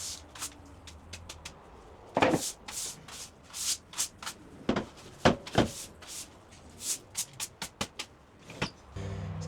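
Cleanup under a rotten bathroom sink cupboard: a quiet series of short scrubbing, wiping and scraping strokes at an irregular rhythm, close by, with a few sharper knocks mixed in.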